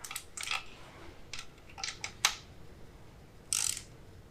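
Sharp mechanical clicks from the gear selector of a 1976 Ford Capri Ghia, a handful of crisp, close ticks spaced irregularly over a few seconds, with no talking.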